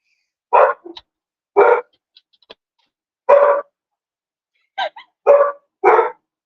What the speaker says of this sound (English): they're barking. I don't know at what.